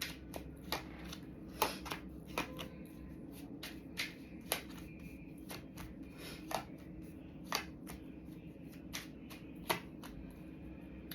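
Tarot cards shuffled and drawn by hand, a quiet series of sharp crisp card snaps and riffles at an uneven rhythm over a soft steady background hum.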